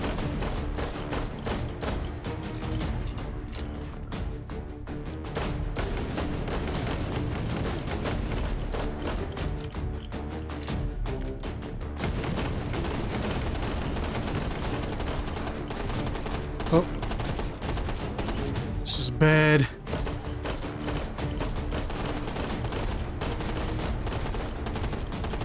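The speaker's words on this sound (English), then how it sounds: "Stop shooting me, man!" Dense, continuous gunfire fills the VR shooter Hot Dogs, Horseshoes & Hand Grenades in Take & Hold mode, with rapid overlapping shots and occasional heavier bursts throughout, while a player talks over it.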